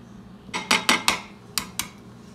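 A knife chops chives on a cutting board while hot dogs are prepared: six sharp, close knocks in an uneven rhythm, with no talking.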